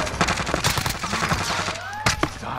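Gunfire in Call of Duty: Modern Warfare, a run of rapid automatic shots in quick bursts, loud and close, with a sharp final shot standing out near the end and brief game effects between; no one speaks.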